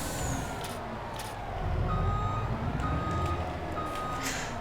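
A vehicle in Farming Simulator 25 reverses with a steady run of loud beeps over a low engine rumble.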